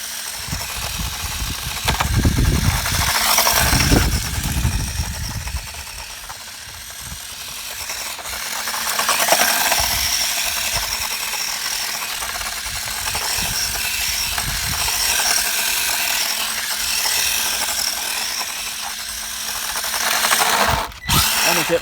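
A 1/18-scale HBX 2188A RC drift car runs at full throttle on grass and pavement, giving a continuous high buzzing, rasping whine with rising and falling surges, fairly loud and close, with no talking.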